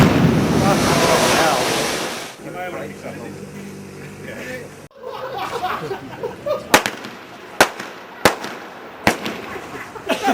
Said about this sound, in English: Fireworks, the like of which we have never seen,